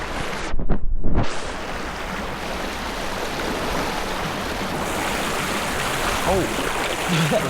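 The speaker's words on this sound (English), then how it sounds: "I'm crossing Lick Brook with the waders." Waders splash through the shallow water of Lick Brook. A steady, close rush of flowing water fills the scene, and a brief louder splash and scrape come near the start.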